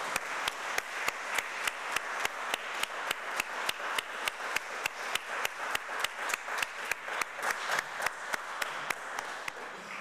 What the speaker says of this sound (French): je vous invite à applaudir les visiteuses et les visiteurs